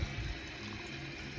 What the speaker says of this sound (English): from this hose, it comes all the way here and it's pouring.